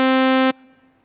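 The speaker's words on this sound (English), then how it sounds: "sawtooth wave" A synthesized sawtooth-wave tone sounds alone as a loud, steady, bright buzzing note with a dense stack of harmonics for about half a second, then cuts off sharply, leaving a faint lingering hum.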